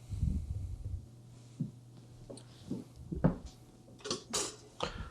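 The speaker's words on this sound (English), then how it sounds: "Let's give it a stir to combine" Spoon stirring kale soup with beef in a metal pot, giving a few scattered clinks and scrapes at close range, with quiet gaps and a low hum between them.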